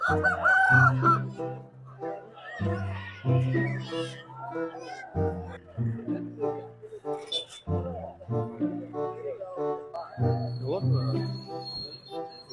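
Chickens cluck steadily and a rooster crows repeatedly nearby, with people talking in the background amid the bustle of a weekly village market in Kunnathur.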